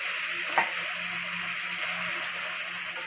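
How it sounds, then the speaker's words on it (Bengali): Gule fish frying in hot oil, a dense, even hiss of sizzling throughout with a single quick tap near the start, close and continuous without any speech. "তাই তেল গরম হয়ে গেছে, আগে আমি মাছগুলো দিয়ে দিচ্ছি।"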